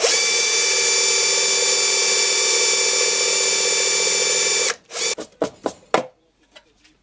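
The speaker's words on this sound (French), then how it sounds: "Je vais ébavurer le trou à l'aide d'un foret d'ébavurage" A drill runs a countersink bit into a hole in the wood of an old Big Ben subwoofer cabinet, making a steady loud grinding whir for about five seconds, then stopping, followed by a few short sharp scraping and clicking handling sounds.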